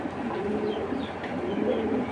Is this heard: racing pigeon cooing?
yes